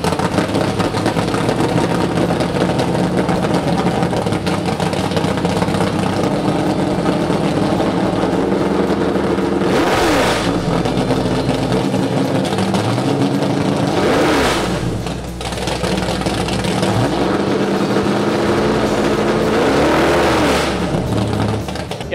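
A race-built 572 Chevy big block roars loudly and close, idling with a rough, heavy lope, then blips up through several sharp revs around the middle and end, each swelling quickly and dropping back to the throbbing idle.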